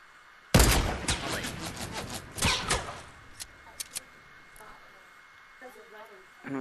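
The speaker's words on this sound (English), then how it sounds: "I can see the shots going through the freaking" A sharp burst of rapid gunfire in Fortnite, loud and close at first, then scattered single shots that trail off while a voice talks over them.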